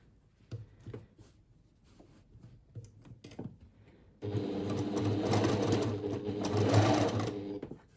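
A sewing machine stitches across gathered fabric in a loud, steady run of about three and a half seconds, preceded by quiet handling noises and soft taps.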